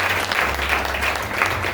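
Applause and acclaim fill a church service for a congregation, a dense wash of close clapping with crowd voices underneath, loud and sustained for a couple of seconds.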